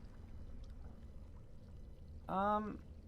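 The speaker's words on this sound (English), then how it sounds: "Fill the earthen jug with water." Dragon Age: Origins game sound of an earthen jug being dipped and filled with water, a brief watery, tonal gurgle near the end over a steady low ambient background.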